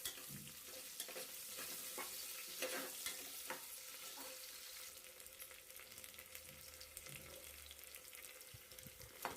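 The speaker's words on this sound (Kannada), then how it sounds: "ಸೋಂಪು ಕಾಳು ಮತ್ತು ಕರಿಬೇವಿನ ಸೊಪ್ಪು ಹಾಕ್ಕೊಂಡು ಇವಾಗ ಕಟ್ ಮಾಡ್ಕೊಂಡಿರೋ ಈರುಳ್ಳಿ ತೊಗೊಂಡು ಸ್ವಲ್ಪ ಹಾಕ್ಕೊಂಡು ಸ್ವಲ್ಪ ಗೋಲ್ಡನ್ ಬ್ರೌನ್ ಬರೋ ತನಕ" Onions frying in oil with fennel seeds and curry leaves for a village-style vegetable pulav give a steady, close sizzle with scraping stir noises throughout and no talking.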